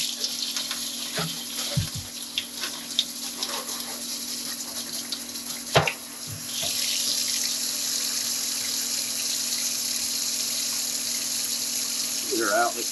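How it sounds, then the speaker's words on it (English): Tap water runs steadily as Donkey Kong arcade cabinet parts are rinsed, a loud continuous splash and hiss that starts partway through after quieter clatter and a sharp knock. "we're going to rinse"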